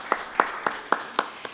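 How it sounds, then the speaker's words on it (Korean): Six sharp, evenly spaced claps ring out at a women's volleyball media day, sounding like a few hands clapping nearby in a rhythmic beat rather than a full crowd. "박수로 맞아주시죠"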